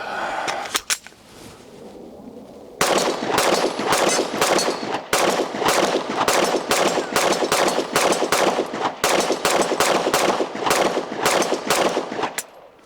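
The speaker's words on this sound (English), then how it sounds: "I'm having to shoot over the steel to get it to hit." A Glock Gen6 pistol fires at a steel target outdoors, a few isolated shots followed by a long, rapid run of loud, sharp reports at close range with brief pauses between strings.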